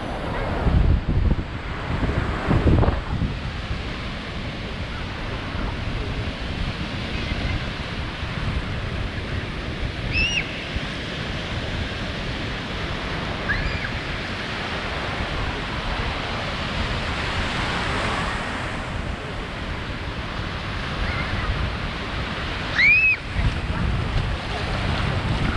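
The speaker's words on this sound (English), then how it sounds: "These waves hit harder." Ocean waves break on the beach at South Padre Island, Texas, a continuous loud wash of surf with gusting wind buffeting the microphone and faint distant bird calls.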